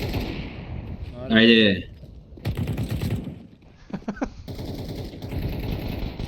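Counter-Strike gunfire, rapid bursts of shots crackling under and between people talking, with sharper volleys around the middle.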